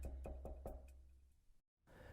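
Knocking at a front door: a quick run of five sharp, hollow raps, fairly quiet and close, then a brief silence before faint room noise returns.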